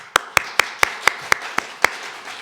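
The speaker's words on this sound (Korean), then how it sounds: "무조건 늦게 나온 사람 박수 쳐봐요" Eight sharp hand claps ring out one by one at a steady, moderate pace during a church evening worship service, each a crisp, close slap followed by a brief pause, with no voices between them.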